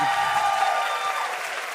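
Audience applause at a conference on structural racism and intersectionality, a steady wash of clapping from a seated crowd that holds fairly even for under two seconds.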